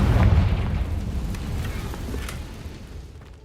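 A Confringo fire spell explodes in Hogwarts Legacy, a heavy booming burst at the start followed by a crackling, fading rumble.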